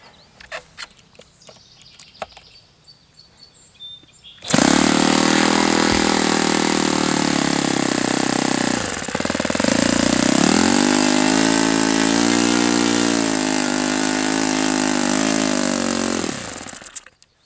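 Saito FA-91S four-stroke model airplane engine on a test run, fitted with an Inya glow plug and its high-speed needle open 2.5 turns, bursts into a loud, steady, buzzing roar after a few quiet seconds, dips briefly mid-run, then cuts off.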